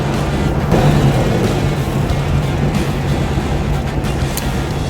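A warmed-up 1958 Chevrolet Corvette with a fuel-injected 283 cubic-inch V8 idles steadily at fairly high revs, a continuous low rumble with a dense, even texture, loud and close, with no voices.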